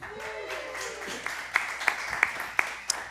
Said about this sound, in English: Can I get applause break?